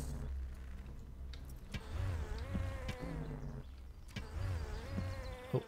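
Insect-like buzzing from bees in the game Gothic 2, a steady droning hum with wavering pitch that rises and falls continuously across the clip, close and fairly loud over a low background rumble.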